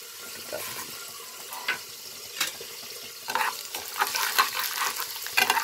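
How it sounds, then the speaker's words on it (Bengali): Soft sizzling and scraping of moong dal lentils being stirred in hot oil in a pan, with intermittent clinks and louder sputters toward the end; no talking. "এতটাই ডাল দিলাম, অল্প চাল কুমড়ো আছে, অল্পই ডাল দিলাম। একটু ভাজা হবে"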